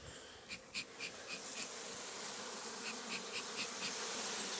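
Honeybees buzzing at the entrance of a beehive in an apiary, a continuous dense hum of many insects that swells slightly louder, with a few sharper high tones from individual bees passing close.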